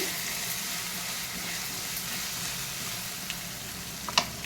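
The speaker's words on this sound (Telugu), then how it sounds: "పసుపు జీలకర్ర మెంతి పౌడర్ అన్నీ ఆయిల్లోనే వేసేయాలండి వేసేసి కలిపి" Turmeric, cumin and fenugreek powder frying in oil for a brinjal and tomato curry, a steady soft sizzle with a faint scrape of stirring near the end, close and continuous.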